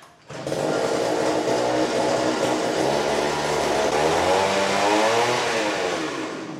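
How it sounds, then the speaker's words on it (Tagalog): Engine of a cultivator tiller running steadily and loudly on a farm in Sultan Kudarat, a continuous revving drone with a throbbing mechanical hum that holds for several seconds, with no talking. "Ayan yung cultivator machine"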